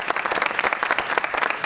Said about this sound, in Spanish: aplaudámoslo, por favor